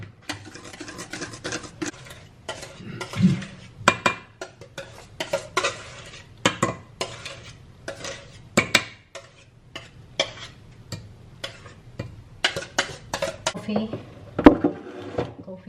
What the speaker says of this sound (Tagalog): mix natin siya sa whipped cream